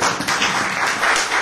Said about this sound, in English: Can I just applaud them?